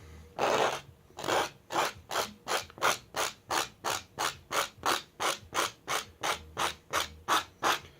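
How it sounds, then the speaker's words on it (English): A paint scraper rasps across a painted surface in steady, rhythmic strokes, about two per second, close and fairly loud, following one longer opening scrape with no talking. "So let's grab the scraper and, well, get scraping."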